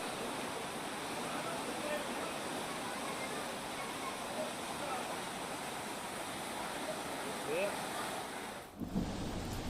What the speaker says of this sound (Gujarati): પાણી એટલી હદે વહી રહ્યું છે.